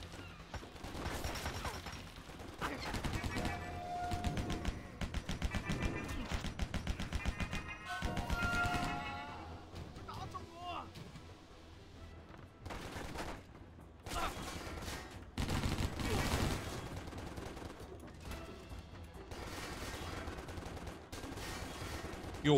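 Gunfire from the action video game Stranglehold rattles in dense automatic bursts and single shots, loud and close, with brief lulls between volleys.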